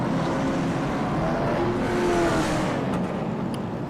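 Race cars roar around the track at the Hickory BBQ 150 in a constant loud engine drone, with a pitch that shifts as the cars pass.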